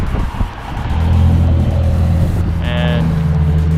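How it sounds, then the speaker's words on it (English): Wrapped Ford Mustang passing on a city street, a deep rumbling engine swelling to a loud steady drone as it nears, with a brief higher tone near the end. "There's that wrapped Mustang again."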